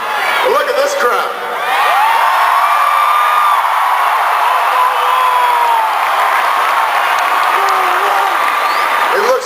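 A large rally crowd in Maryland erupts in sustained applause, cheers and whoops, loud and dense throughout, with a few shouted voices rising above the din.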